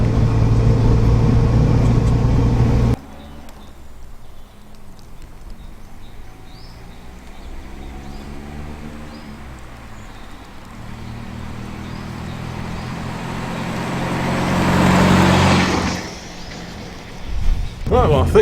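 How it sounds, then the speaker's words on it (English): A classic Ford Anglia is out for a drive: a loud engine rumble first cuts off, then a steady muffled cabin drone rises and swells, with a voice talking over it near the start. "we've come out for a spin in the Anglia"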